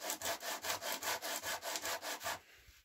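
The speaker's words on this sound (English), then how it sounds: "I'm going to sand these lightly" Stained wood hand-sanded lightly with coarse 80 grit sandpaper: about a dozen quick, even back-and-forth scratchy strokes, close and steady, then stopping.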